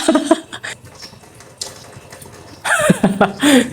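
Water poured into a cooking pot, short splashing and trickling bursts, fairly close and moderately loud, separated by quieter gaps.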